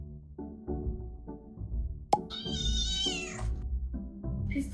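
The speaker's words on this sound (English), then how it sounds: "That poor kitty." A hungry cat meows repeatedly up close, a series of short calls followed by one long drawn-out, rising meow and a few more brief mews.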